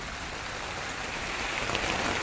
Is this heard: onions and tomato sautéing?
no